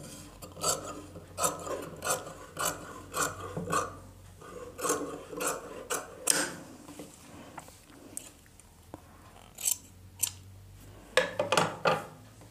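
Scissors cutting folded blouse fabric at a tailoring table, a series of close, crisp snipping strokes in irregular bursts with short pauses between them.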